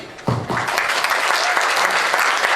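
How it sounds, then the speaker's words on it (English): A crowd at a community gathering breaks into applause, a burst of many hands clapping that stays full and steady, with a brief voice near the start. "big round of applause for him"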